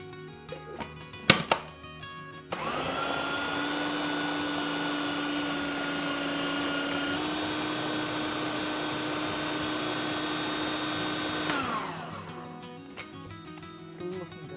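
A blender whizzes avocado chocolate mousse with coconut milk, starting after a couple of knocks, whirring loudly and steadily for about nine seconds with a slight pitch shift, then winding down, no talk.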